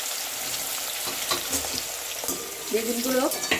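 Eggplant pieces sizzle steadily in hot oil, a close, continuous crackle with a few bubbling pops and light stirring sounds, no voices.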